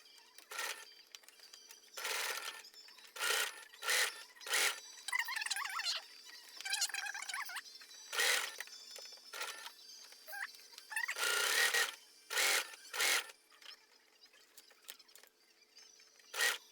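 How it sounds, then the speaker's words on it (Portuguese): Sewing a small waterproof pouch for a cloth menstrual pad: bursts of machine-like stitching alternate with pauses and light handling clicks, close and moderately loud, without speech. "agora eu vou continuar costurando desse lado de cá"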